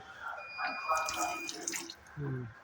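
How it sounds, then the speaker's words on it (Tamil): Water runs steadily from a tap into a basin on a train, splashing, with a brief low voice near the end. "இதுலேயும் தண்ணி நல்லா தான் வருது."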